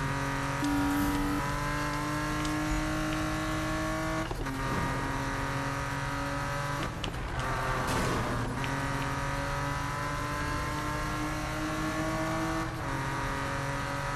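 A BMW racing in Need for Speed 2015, with a steady engine drone that holds at high revs and shifts pitch at a few points, plus occasional tire and impact noises. The sound is continuous and fairly loud.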